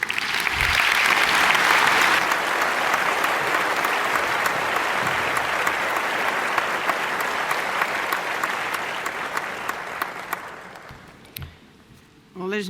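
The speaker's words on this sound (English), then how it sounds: "So a big round of applause," Sustained, dense applause from a conference audience at a transport industry event, loud and steady for about ten seconds before thinning out and fading into a brief lull.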